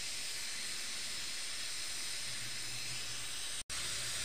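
A pressure cooker on a gas stove hisses steam in a steady loud jet while mutton pulao is being cooked, continuous broadband hissing close by with a brief cut near the end.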